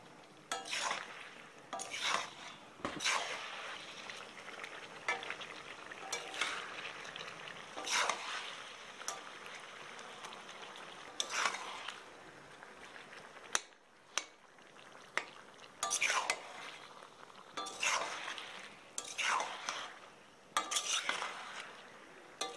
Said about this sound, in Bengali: মেরে টমেটোগুলো নরম করে মিশিয়ে দিচ্ছি।